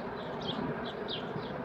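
Honeybees buzzing around an open hive during inspection, a steady dense hum with a few passing bees droning nearby, filling the whole moment without speech.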